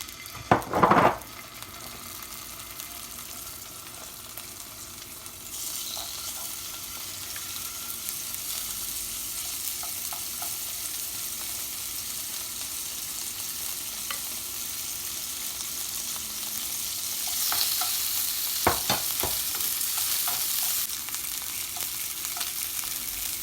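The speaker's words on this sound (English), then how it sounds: "Once it's hot, add one shrimp and several pieces of pork." Shrimp and pork fry in a hot pan for Vietnamese banh xeo crispy pancakes, giving a continuous loud sizzle with a few sharp clinks of utensils against the pan, and no one speaking.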